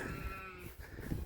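A lamb bleats close by beside the flock on a small farm with a market garden, with a couple of wavering, nasal cries and farmyard background under them.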